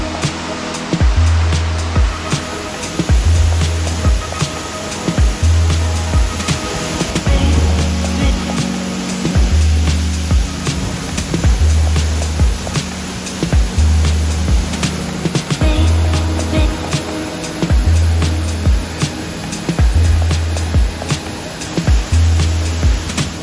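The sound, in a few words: powerful waterfall on Biliran Island, Philippines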